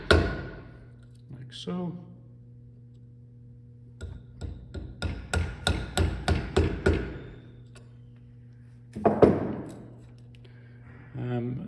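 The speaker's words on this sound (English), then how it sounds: "putting our chisel halfway between where the cut is at the moment and where the line is, making sure our chisel is vertical, and just go straight down" A chisel is struck straight down into wood while chopping a mortise for a wedged mortise and tenon joint, a run of about nine sharp evenly spaced knocks, with a few more scattered hits and a short remark spoken early on.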